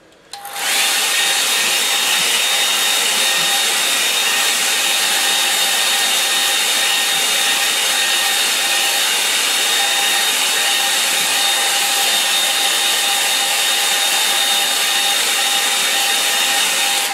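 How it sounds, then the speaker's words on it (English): A hair dryer drying watercolour paint switches on and runs continuously at close range, a loud steady whooshing blow with a faint whine, unbroken for the whole stretch. "I'll fix that now with a hairdryer"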